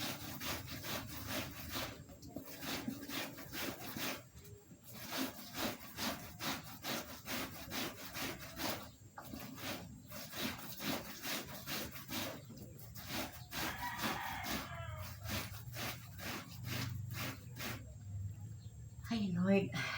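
A hand brush scrubs a surface in quick, rhythmic rasping strokes, close and steady for the whole stretch, with brief pauses between bursts.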